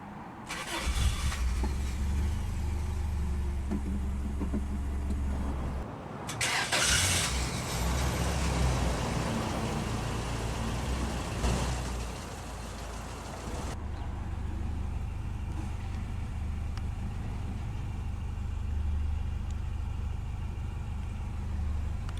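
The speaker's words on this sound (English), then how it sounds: "And now, let's go ahead and start the engine." A 1985 Toyota Celica GT-S Liftback cranks and fires up, then settles into a steady, close idle with a low, even engine drone and a brief rev midway.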